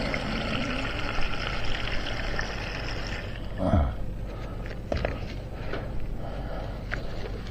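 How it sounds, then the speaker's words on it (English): Water pouring from a container into a hydration bladder outdoors, a steady trickling splash with some rustling and a brief louder gurgle midway, close and continuous with no talk. "I'm filling up my water bladder a little bit at the moment"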